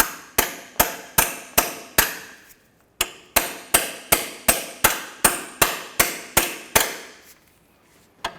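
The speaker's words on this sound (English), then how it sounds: "This one's a little rusty, so I'm just going to hammer it on a little bit." Repeated sharp metallic hammer strikes drive a socket onto a rusty exhaust manifold clamp on a Mini Cooper, in a steady rhythm, about two per second, with a brief pause midway; loud and close, no talking.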